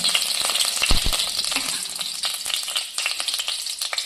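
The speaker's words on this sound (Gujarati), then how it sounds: "હવે આપણે આ કઢાઈમાં એક ચમચો તેલ લીધું છે અને તેમાં થોડું બટર ઉમેરી દઈશું વ્હાઈટ બટર" Oil and white butter heat in a kadai with a steady, close sizzling hiss and occasional soft stirring clinks, with no voices.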